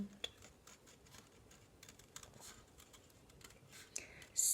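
Scissors cut around a paper shape in short, quiet snips and ticks, close but faint, in an irregular rhythm with brief pauses and no talking.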